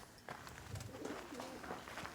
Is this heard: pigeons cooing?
yes